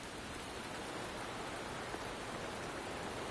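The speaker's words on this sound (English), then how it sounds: "Don't worry, the rain won't last much longer." Steady, even rain falls in the Wuthering Waves video game, a dense constant hiss with no breaks and no voices, heard at a fairly low level.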